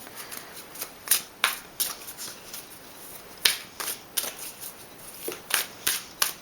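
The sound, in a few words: shuffling oracle cards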